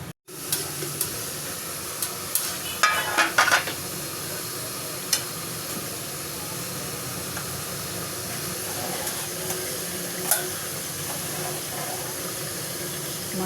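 Korma simmers over a medium flame in a covered pot, a soft, steady bubbling hiss with a few light clinks near the start, then a constant low simmer.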